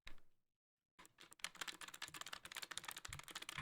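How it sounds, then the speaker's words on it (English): Clicky replacement buttons on a homemade Guitar Hero guitar controller are pressed rapidly, a dense run of sharp close clacks like a mechanical keyboard after a brief pause. "He also replaced the buttons so that they're just as clicky clack as my keyboard."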